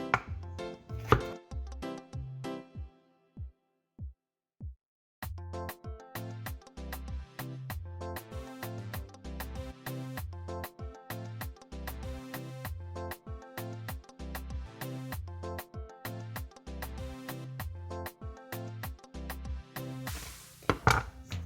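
A knife chops potatoes into fries on a cutting board, a fast, steady run of crisp, close thuds after a few slower opening cuts and a short pause, with no talk.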